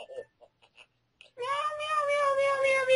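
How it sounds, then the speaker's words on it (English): A pet cat meows loudly and close by in a long drawn-out call that starts about halfway through, after a few faint, scattered sounds. "I just hear my cat in the background."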